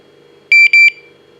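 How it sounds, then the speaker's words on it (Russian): StarLine car alarm key fob chirping: two short, loud high-pitched electronic beeps in quick succession over a faint steady hum, with no talking. "Нажимаем, ждем первый сигнал, второй сигнал"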